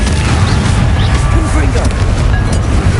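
Confringo fire spell in Hogwarts Legacy, booming blasts in a heavy, continuous roar of explosions and rumble, with a voice speaking over the din.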